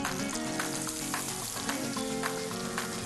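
Onion and carrot sautéing in butter with a steady, close sizzle and faint clinks of stirring, no voices.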